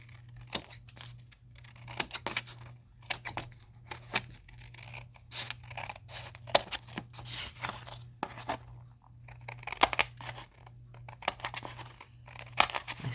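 Scissors snip and trim a folded paper piece while a folio is built, giving quiet, irregular cutting and rustling strokes close by over a steady low hum.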